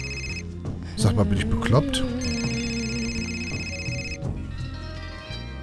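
A telephone rings inside the video game Fahrenheit, a steady electronic trill lasting several seconds under a man's casual speech, then cutting off.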